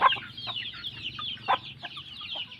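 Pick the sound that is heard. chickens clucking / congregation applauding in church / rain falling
chickens clucking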